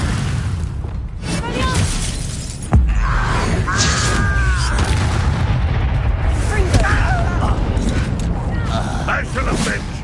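A Confringo blasting spell erupts in the Hogwarts Legacy video game with a sharp, loud burst about a third of the way in, followed by sustained rumbling combat noise, with game voices talking over the action.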